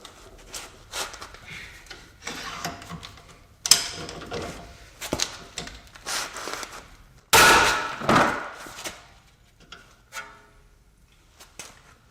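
A ratchet works on a Torx 60 nut on the front suspension of a Jaguar S-Type, giving irregular clicking bursts and metallic clunks up close, with a sharp louder burst partway through and quiet gaps between.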